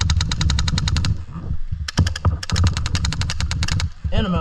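Airsoft gun firing in rapid bursts during an outdoor skirmish game, a dense string of sharp close-up shots with a short pause midway, voices talking faintly underneath.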